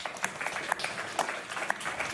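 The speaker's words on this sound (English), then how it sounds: "It's okay, you can clap. We love claps." A conference audience applauds in a large hall, a moderate, even patter of many hands with a few sharper individual claps standing out.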